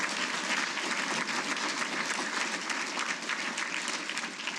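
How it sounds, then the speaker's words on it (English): An audience at a Hall of Fame ceremony applauding, a steady wash of many hands clapping at moderate distance, sustained evenly for a few seconds. "Let's give Ms. Brown a round of applause."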